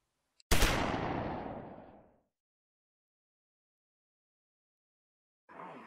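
A Classic Army SR40 airsoft sniper rifle fires once through a chronograph, a sharp loud crack with a short decaying tail, then silence before a brief later noise.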